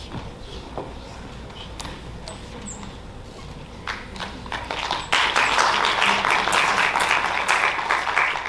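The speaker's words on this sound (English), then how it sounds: "All right, another applause." Applause from a summit audience after a presentation: scattered claps at first, then swelling into fuller, louder group clapping that carries on to the end.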